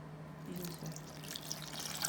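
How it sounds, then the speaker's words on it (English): Warm water splashing and trickling into a bowl of pizza dough mix holding lard, salt and yeast in a home kitchen, a faint, close liquid pour over a steady low hum. "add warm water"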